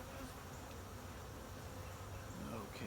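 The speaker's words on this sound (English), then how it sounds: "Lots of bees." Honey bees swarm around an open hive during an inspection, a dense, continuous buzz of many insects at low level with no pauses.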